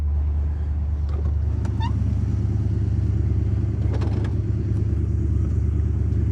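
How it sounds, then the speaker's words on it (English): A 1966 Chevrolet Corvette convertible with a tuned 327 small-block V8, four-speed manual and side-pipe exhaust idles with a steady, loud, low rumble close by, a few faint clatters and ticks riding over it, with no talking. "This 327 is tuned up and running fantastic."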